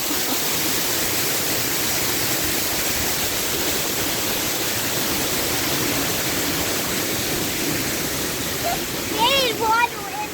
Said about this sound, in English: We're going to drive under this waterfall.